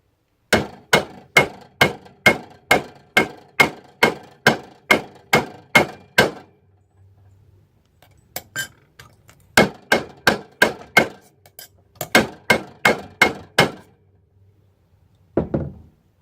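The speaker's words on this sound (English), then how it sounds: "here's a clip of me hitting some steel with a hammer really hard" A hammer strikes steel hard in fast, evenly spaced ringing blows, a long run of about a dozen, a pause with a few lighter taps, then two more bursts and a final hit, close and alone.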